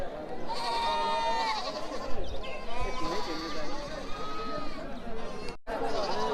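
Goats bleat repeatedly at a crowded rural livestock market in Gazipur Bazar, Melandaha, Jamalpur, their wavering cries rising over constant chatter and bargaining voices nearby.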